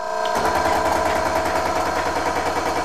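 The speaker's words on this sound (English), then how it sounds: "What you hear in the background are the steam explosions occurring in the impact chamber." Rapid steam explosions firing in the impact chamber of an experimental boilerless steam engine, a fast, even machine-gun-like chatter that starts abruptly and runs loud and continuous, with no talk.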